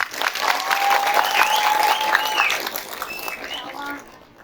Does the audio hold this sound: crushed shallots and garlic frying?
no